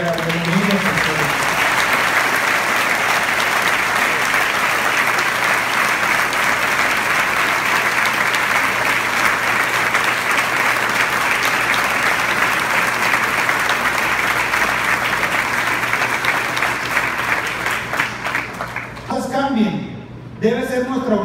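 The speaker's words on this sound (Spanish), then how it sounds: "Démosle un aplauso a ellos y a la bienvenida a ustedes." Loud, sustained applause from the audience at a legislative report event, continuous dense clapping that tapers off near the end as a voice starts speaking.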